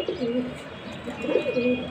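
Soft, repeated pigeon coos in a low rolling rhythm from a balcony nest with chicks, fairly close, with a faint steady hum in the background.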